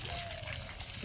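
Water poured onto garden plants, a quiet continuous trickle and splash over about a second, faint and close, without talk.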